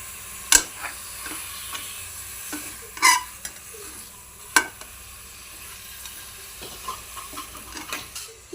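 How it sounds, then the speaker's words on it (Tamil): Mutton stirred in a hot pan with sizzling fat, a steady frying sizzle broken by several sharp scraping knocks of a spoon against the pan, close and alone with no talk. "இந்த மட்டன் நம்ம இதுக்குள்ளே சேர்த்துக்கலாம்."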